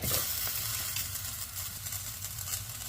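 Okra dropped into hot oil with frying spices sizzles loudly and steadily at close range, a continuous crackling hiss with no talking.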